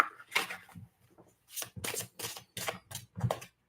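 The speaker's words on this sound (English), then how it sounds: "little quick little shuffle there." Tarot cards being shuffled by hand in a quick run of about five crisp riffling bursts, close and fairly loud, with brief pauses between them.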